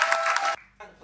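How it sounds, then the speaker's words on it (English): Audience applause inside an event tent, a dense wash of clapping that cuts off abruptly, a short lull, then a softer burst of clapping returns. "let's just give yourselves one more round of applause."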